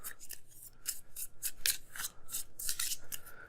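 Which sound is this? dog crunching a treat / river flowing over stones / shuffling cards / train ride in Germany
shuffling cards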